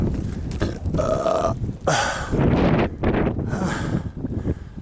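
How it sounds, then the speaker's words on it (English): Wind buffets the microphone on the exposed, snowy winter summit of Bondcliff, rumbling in strong, uneven gusts that swell and drop, loud and close throughout. "It's cold, it's snowing, it's windy"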